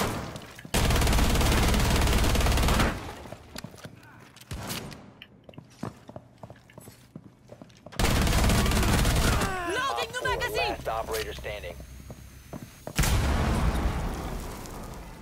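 Bursts of gunfire in the tactical shooter Rainbow Six Siege: two long dense volleys, then scattered shots and game effects, and another burst near the end, with some voice activity in between.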